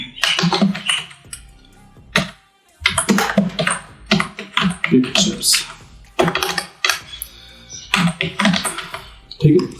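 Typing on a computer keyboard while working in After Effects, with bursts of rapid, close key clicks separated by short pauses, and someone talking over parts of it.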